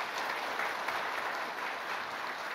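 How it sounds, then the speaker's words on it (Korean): Steady applause from a church congregation for the choir fills the whole stretch, a dense even patter of many hands clapping at moderate distance. "성가대를 위해서 박수 한번 합시다."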